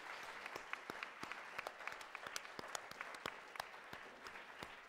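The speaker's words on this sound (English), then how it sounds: "it's a round of applause for a great discussion" A university audience applauds after a discussion on whether net zero by 2050 is possible, a soft, distant patter of scattered clapping with individual sharp claps standing out throughout.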